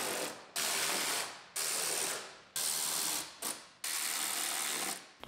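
Ratchet tightening bolts on a GMC Yukon wheel liner, five quick bursts of close, fast clicking separated by short pauses, quiet and without speech.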